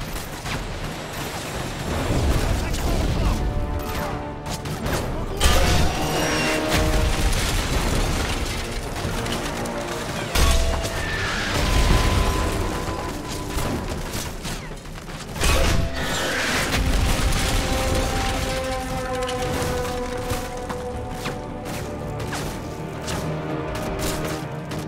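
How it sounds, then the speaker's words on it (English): Mortar rounds fire and explode repeatedly in Call of Duty: Modern Warfare 3 village combat, heavy booms rising every few seconds out of a loud, dense wash of battle noise and mechanical clatter. "Keep firing the mortar."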